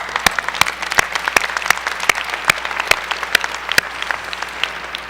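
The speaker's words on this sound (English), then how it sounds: "I want to take this moment to personally clap for you guys" Applause at a winter commencement ceremony: a dense wash of clapping with sharp, close individual claps standing out in a steady rhythm, likely the speaker clapping near the microphone, over the audience's sustained applause.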